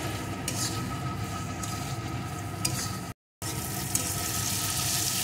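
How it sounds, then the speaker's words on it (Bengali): Onion and tomato fry with turmeric and chili powder in a pan for an egg curry, giving a steady soft sizzle with light stirring scrapes throughout, broken by a brief silent gap partway. "এখন একটু ভেজে নেব।"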